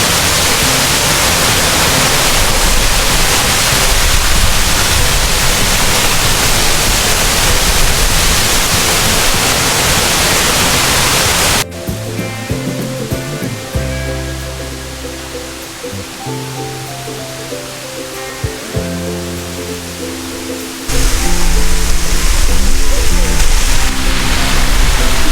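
Loud roaring rush of an 18-meter waterfall in Plitvice Lakes National Park, Croatia, fills the clip, broken midway by a stretch of quieter sound with low tones before the roar returns.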